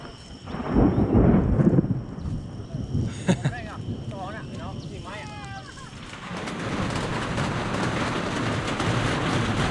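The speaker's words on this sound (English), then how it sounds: "not ideal for thunder and lightning" A deep roll of thunder rumbles through a dense jungle rainstorm near Chiang Mai, loud at first then fading, followed by steady rain hiss with faint voices and other sounds in between.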